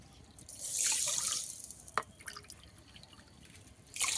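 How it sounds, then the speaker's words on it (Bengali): Water poured onto sugar in a pan to make syrup for gulab jamun, a bright splashing pour near the start, then a sharp clink and lighter trickles before a second short splash at the end. "এক বাটি চিনির জন্য আমি দু বাটি জল দেব"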